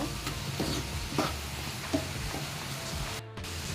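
Chili powder, turmeric, coriander powder and salt being stirred in a frying pan for shakshuka: soft scraping strokes of a utensil over a low sizzle, close and fairly quiet, with no talking.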